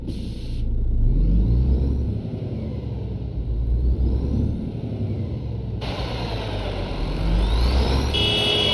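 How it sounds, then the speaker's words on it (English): A heavy MAN truck engine in a video game rumbles and revs in long sustained pushes, with a rising turbo whine over the deep low drone, loud and close. "You've got that big turbo whine as you rev it up."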